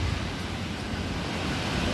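Strong stormy wind with rain in Hong Kong buffets the microphone in a dense, continuous roar, loud and unbroken.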